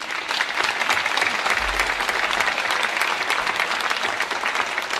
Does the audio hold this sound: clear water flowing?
no